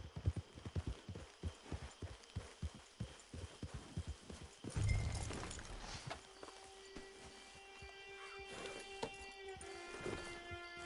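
Steady clip-clop of horse hooves trotting close by in Red Dead Redemption 2, then a snort and whinny as the rhythm breaks, followed by softer ambient game sound.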